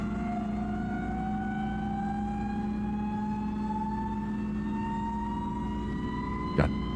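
A jet engine fitted to a boat, restarted and running louder than before: a steady, loud roar with a rising whine that climbs in pitch throughout, ending in a brief sharp burst near the close.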